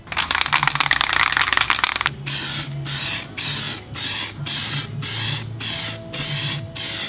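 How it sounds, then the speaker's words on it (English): Clear coat is sprayed over a sticker: first a long continuous hiss, then a series of short, evenly spaced spray bursts, close and fairly loud. "We're putting a clear coat over the top to make it all shiny"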